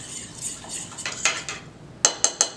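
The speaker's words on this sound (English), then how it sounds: "I'm gonna go ahead and just give that a stir up to break up any clumps." A utensil stirs quinoa with spices in a pot, making soft scrapes followed by three sharp, close metallic clinks against the rim.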